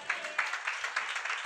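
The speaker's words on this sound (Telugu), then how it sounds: "చప్పట్లు కొట్టండి." A church congregation clapping together during a pastor's sermon, a steady burst of hands lasting about a second and a half with faint voices mixed in.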